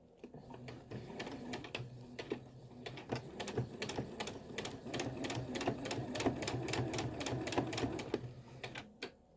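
A sewing machine stitches a quarter-inch seam around a fabric mask with the needle starting down, a quiet steady whirring broken by rapid clicking stitch pulses, close and fairly faint.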